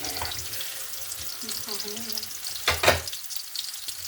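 Onions fry in a pan with a steady close sizzle and bubbling crackle, plus a brief louder burst of spattering partway through, with no speech.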